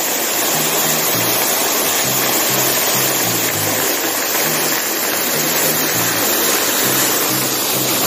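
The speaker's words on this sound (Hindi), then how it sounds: "और ये है जटेश्वर वाटरफॉल जो कितना ब्यूटीफुल लग रहा है।" The Jateswar waterfall in a forest roars as a dense, steady rush of broadband water noise throughout, loud and close, with a faint rhythmic low engine-like thrum underneath and no speech.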